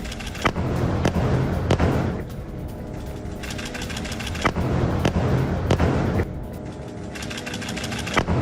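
Explosions from Israeli air force bombing strikes in north Gaza, a dense, continuous rumble broken by repeated sharp booming impacts at irregular intervals, loud and close, with no talk.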